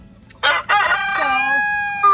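A rooster crows loudly and close by in a chicken coop shared with hens, giving one full drawn-out call with a rising, wavering tail, and no voices over it.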